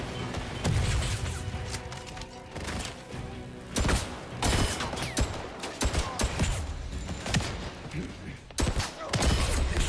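Gunfire in a shooter video game: rapid repeated shots and thumping impacts come in irregular bursts throughout, some loud and close, with a voice speaking intermittently over the shooting.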